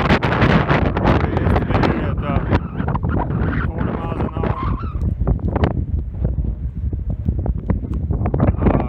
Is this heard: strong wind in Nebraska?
yes